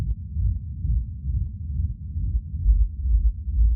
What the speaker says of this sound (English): The rumble is not that hard to make, but with this style, you definitely want to go for more of a reverb rumble than like a delay rumble